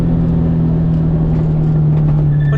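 A Subaru BRZ or Toyota GR86 running an FA24 short block with FA20 heads revs high in a steady, loud, close drone with a strong low tone. No talk is heard.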